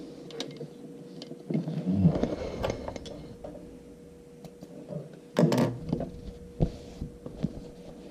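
A sewing machine top stitching runs in short whirring bursts over a steady low hum, with quieter clicks and pauses between stitching runs.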